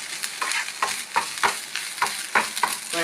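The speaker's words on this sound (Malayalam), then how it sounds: "നാളികേരം കുറച്ച് ഫ്രൈ ആക്കാം." Grated coconut fries in coconut oil in a pan with salt, a soft continuous sizzle punctuated by regular scraping strokes of a spatula, close by with no voices.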